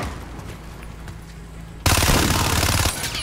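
Sustained automatic gunfire from Call of Duty: Modern Warfare, a loud rapid burst that starts abruptly partway through and runs steadily to the end, preceded by quieter game ambience.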